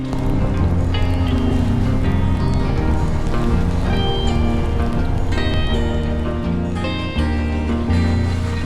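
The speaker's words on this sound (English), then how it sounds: "It's now started to rain, creating a refreshing and a very cool atmosphere." Steady rain falls on a mountain road in Nepal. The patter is loud and dense, and it mixes with a constant low rumble, probably from a vehicle.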